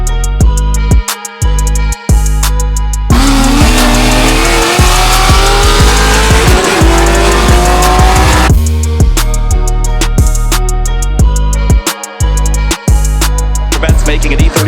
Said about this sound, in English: DeLucia, big slide coming down the hill.